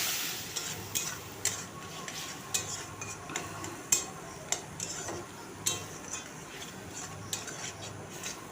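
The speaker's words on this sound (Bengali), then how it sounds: "মশলাটা ভালো করে ভেজে নেব।" Ground coriander, cumin and garam masala fry in a pan for chicken curry, a soft background sizzle broken by regular spoon taps and scrapes against the pan.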